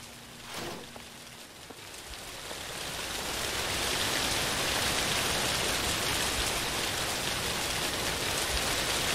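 Rain falling outside in the video game The Caregiver, starting soft and swelling into a steady, dense hiss of downpour on surfaces, with no talking.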